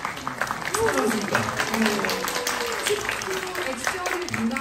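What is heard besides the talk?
audience applause at press conference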